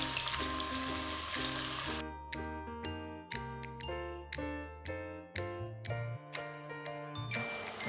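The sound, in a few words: lamb cubes searing in hot oil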